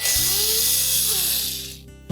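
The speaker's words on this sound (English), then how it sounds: "locate the two screws in behind and remove those" A power screwdriver whirs close up while removing screws behind the surface burner switch knob of a GE range, a steady motor whine that slows and stops near the end, followed by a brief click.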